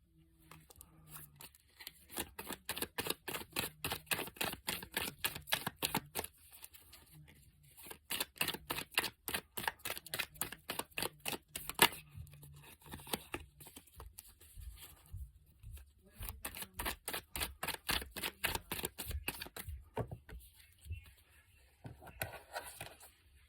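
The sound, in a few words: tarot cards being drawn and handled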